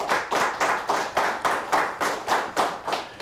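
A small studio audience claps for a high-school quiz team in a slow, even rhythm of about eight distinct claps, near and clear with no talking.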